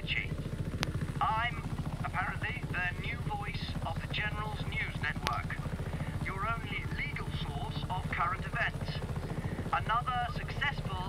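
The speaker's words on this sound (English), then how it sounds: "You can take this chopper, Fratre." A helicopter in the video game Just Cause 3 gives a steady, rapid rotor chop throughout, with people talking over it.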